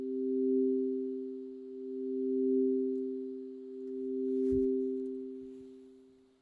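Several synthesized sine tones from SuperCollider sounding together as a sustained chord, steady and clean with gently pulsing loudness, heard alone without voices.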